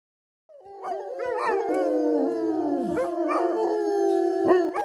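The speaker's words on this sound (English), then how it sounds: "all the dogs are howling" Several dogs howl together in long, wavering, overlapping tones that rise and fall, loud and close, sustained for several seconds with occasional yips.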